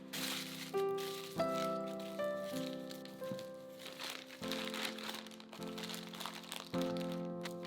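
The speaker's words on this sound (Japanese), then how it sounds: "肉が冷めないうちに アルミホイルに包んで厚手のビニール袋に入れます" Repeated crinkling and crumpling of aluminum foil wrapped around warm roast beef, in short bursts, close and fairly quiet, with no talking.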